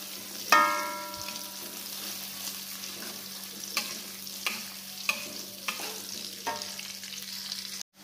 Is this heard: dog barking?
no